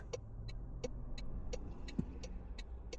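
Car passing through an intersection in Toronto, a steady low engine and road rumble with faint periodic ticking, moderately quiet and continuous.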